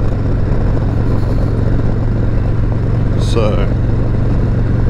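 A Harley-Davidson motorcycle engine thrums steadily while riding on a cool day, a constant low rumble beneath someone talking throughout.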